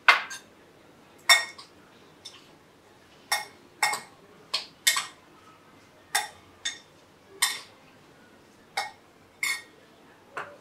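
A spoon clinks repeatedly against a bowl as chaat masala is spooned in for a raw vegan fruit basket, a dozen sharp, bright taps spaced irregularly, close and clear over a quiet background.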